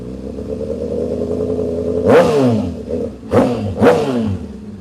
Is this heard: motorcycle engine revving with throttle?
yes